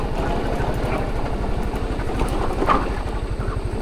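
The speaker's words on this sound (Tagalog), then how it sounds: "Ayun, yung motor ni Kapanalig" A motorcycle engine runs close by with a rapid, even low throb that stays steady and loud from start to finish.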